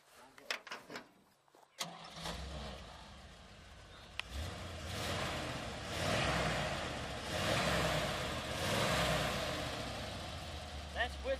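A 1967 Chevy truck engine fitted with mufflers cranks and fires after a brief pause, then settles into a steady, muffled idle rumble with mild swells in revs, heard close by.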